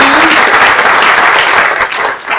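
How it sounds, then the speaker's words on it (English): An audience at an evening community gathering in Maine claps for the food sponsor, a dense burst of applause that holds steady and then tapers slightly at the end, with no talk over it. "a big round of applause for our food sponsor tonight"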